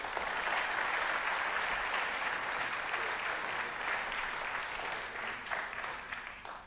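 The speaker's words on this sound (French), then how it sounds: "Je vous en félicite et on vous applaudit." Steady applause from an awards audience greets a silver trophy winner, a dense, sustained wash of clapping that holds at even strength throughout.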